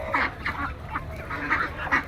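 Belgium hybrid ducks on a farm quacking in repeated loud, nasal bursts, several calls overlapping at close range with brief pauses between them.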